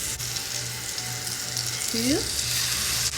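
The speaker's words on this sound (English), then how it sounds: "And to the melted butter, I'm going to add 3 pork chops that I have seasoned one side with lemon pepper." Three pork chops seasoned with lemon pepper fry in melted butter in a pan, giving a steady close sizzle throughout while a voice counts over it.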